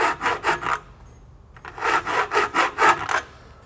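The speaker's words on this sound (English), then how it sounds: "A coarse file works good because this stuff is aluminum." A coarse hand file rasps across an aluminum radiator support on a 1960 Chevy Biscayne, close and loud: four quick rhythmic strokes, a short pause, then six or seven more even back-and-forth strokes.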